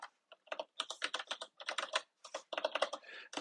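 Code is typed on a computer keyboard in quick bursts of crisp, close keystrokes with short pauses between runs and no voices.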